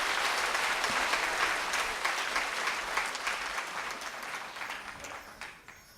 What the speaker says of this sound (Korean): 우리 다시 한번 격려의 큰 박수 부탁을 드립니다.